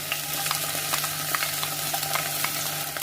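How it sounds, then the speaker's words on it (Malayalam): Chopped green chilies, ginger and garlic sauté in hot oil with a continuous close sizzle. Scraping stirring strokes recur at an irregular rhythm, and no one speaks. "ഓയിലൊന്ന് ചൂടായി കഴിഞ്ഞ് ഇതിലേക്ക് 2 പച്ചമുളക് ചെറുതായി അരിഞ്ഞതും ഇഞ്ചി അരിഞ്ഞത് 1 ടേബിൾ സ്പൂണും"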